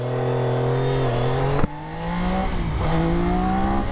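Triumph Daytona 660 triple-cylinder motorcycle engine revving up through the gears, rising tones broken by a sharp shift, then pulling hard again, close and loud.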